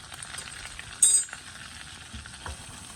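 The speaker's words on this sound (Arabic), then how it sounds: "هنقلبها طبعا لحد ما نحس ان الدقيق ريحته ما بقتش دقيق ني" Flour being stirred into melted butter in a pan, a soft, quiet sizzle with light scraping of a spoon and one brief sharper clink, no voices.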